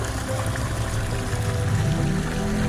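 Blackened, polluted creek water flows in a steady, full rushing stream at San Mateo, Rizal, a loud continuous wash with low gurgling and no voices.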